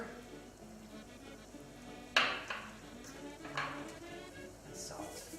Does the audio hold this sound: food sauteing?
yes